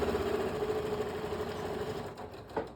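Sewing machine stitching a seam on a monogrammed tote bag, a steady mechanical hum running close and alone until it stops near the end.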